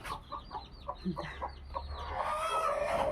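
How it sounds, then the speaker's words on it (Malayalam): A hen clucks in soft repeated bursts among her newly hatched chicks in a backyard coop, their thin high peeping growing busier and denser toward the end. "നമ്മുടെ കോഴിയും കുട്ടികളും ഇതാട്ടോ"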